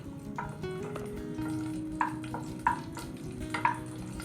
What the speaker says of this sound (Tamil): நல்லா வதக்கி விட்டுக்கோங்க நல்லா வறுப்படணும்